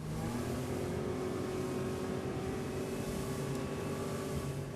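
A Ranieri Atlantis 22 motorboat with a 150 HP engine running at high throttle, a loud, steady, unbroken engine roar mixed with rushing water and no voices.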